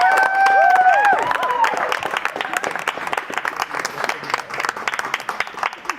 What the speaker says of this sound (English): Please can we have a round of applause for our teammates.